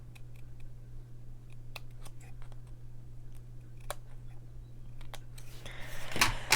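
Scissors snip paper in scattered small cuts, trimming an edge to round a card's corner, close and quiet, with a brief rustle of handling at the end.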